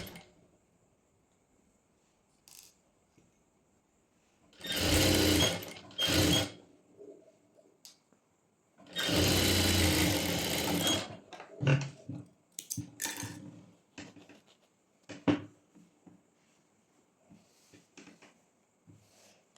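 A sewing machine stitches a folded half-inch pant hem in two sustained mechanical runs of a couple of seconds each, separated by quiet handling and soft clicks.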